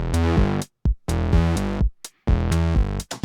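A bassline alternates a low E, the octave-up E and a G in short, punchy repeated groups separated by brief gaps, loud and alone.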